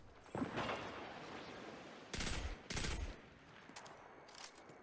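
Weapon reloading in Destiny 2: a burst of mechanical clicks and clacks at the start, then two loud, short bursts of metallic handling noise close together, with quieter clatter afterward.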